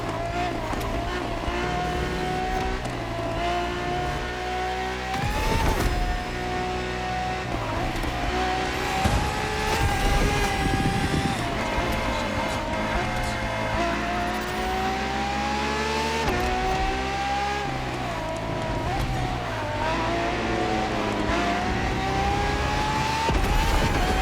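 Ferrari FXXK engine in the racing game The Crew Motorfest, loud and close, revving and climbing through gears with repeated rising pitch sweeps and brief shifts, sustained throughout without talk.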